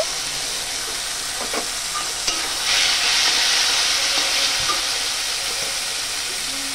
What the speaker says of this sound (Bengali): এবার রসুন আর আদা কুচি এটা দিয়ে দেব।